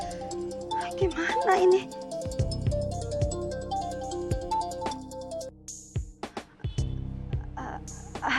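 A phone ringtone plays a repeating melodic pattern for an incoming call, loud and close, with a voice speaking over it and briefly afterward.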